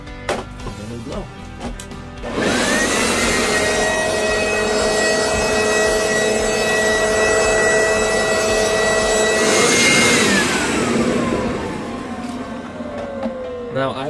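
Corded WORX Trivac 3-in-1 leaf blower switched on in blower mode, a loud steady whine with a rising tone that holds for about seven seconds, then winds down as the motor spins to a stop.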